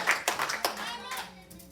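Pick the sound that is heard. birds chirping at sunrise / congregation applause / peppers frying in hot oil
congregation applause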